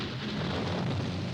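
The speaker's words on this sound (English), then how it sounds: "We did it. We made it rain" Cartoon rain and thunder effect: a dense, steady wash of pouring rain with a low rumbling undertone, loud and continuous, with no voices.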